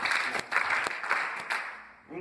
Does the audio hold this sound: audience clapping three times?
yes